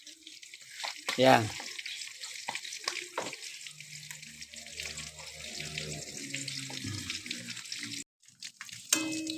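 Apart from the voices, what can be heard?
pork frying in a pan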